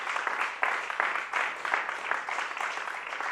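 Studio audience applause on a live variety show, a small crowd clapping in a busy, steady patter with uneven swells, moderately loud and without talk.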